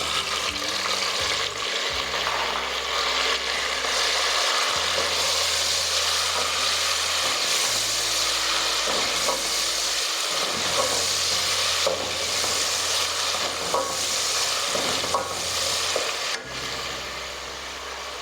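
Tomatoes sizzle steadily in a hot pan for matar pulao while a spoon stirs and scrapes, making a continuous close frying hiss with periodic scraping, no talk.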